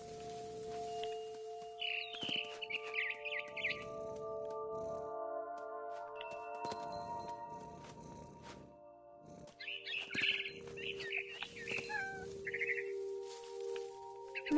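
A scared barn swallow in What Remains of Edith Finch chirps in quick high bursts over a steady ambient music bed, the calls recurring several times near and fairly clear, no talking.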